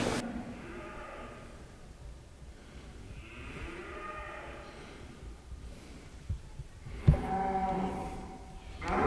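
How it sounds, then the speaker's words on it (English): Grazing sheep bleat softly at a distance on Bjorko, a pasture island, in long, drawn-out calls over steady outdoor ambience, with a louder bleat near the end. "do not be surprised if you encounter grazing sheep or cows when you walk around on the island"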